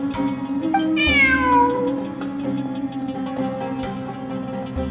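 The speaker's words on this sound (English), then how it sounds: "Look, a cat." Cat in the video game Genshin Impact lets out a single clear, drawn-out meow, close and distinct over a steady background of ambient game music.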